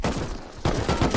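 AK rifle fire crackles in a video game raid defense, with dense, loud bursts of gunfire filling the whole moment and a brief dip in the middle.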